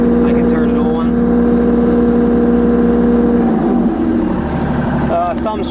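A 2016 Kubota U35-4 rubber-track mini excavator with cab sits with its engine on auto idle, giving a steady, close diesel drone with a faint rise near the end, while a voice talks over it.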